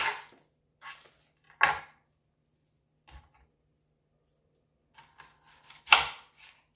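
Knife chopping broccoli on a cutting board, a few isolated crisp cuts spaced unevenly with quiet gaps between, close and clear with no voice over them.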